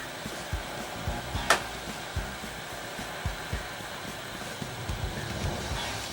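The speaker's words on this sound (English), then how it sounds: "I got a pretty big nozzle on my hot air gun" A hot air gun with a large nozzle blows a continuous airy hiss while desoldering a component from a Philips/Magnavox 39ME313v/F7 TV board, with occasional soft clicks and taps over the steady rush.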